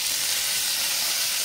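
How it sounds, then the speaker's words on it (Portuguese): Coalho cheese sizzles in a pan of rendered bacon fat, a loud, steady, close hiss and crackle filling the whole moment without pause or talk. "aproveitando a própria panela que nós fizemos o nosso bacon, vamos colocar o nosso queijo coalho"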